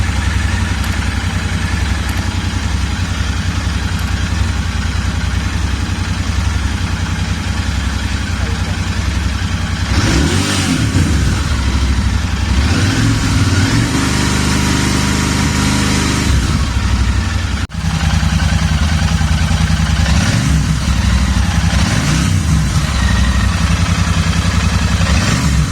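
A Royal Enfield Interceptor 650 BS6 motorcycle engine runs steadily with a continuous low rumble, swelling briefly partway through, and talk can be heard over it.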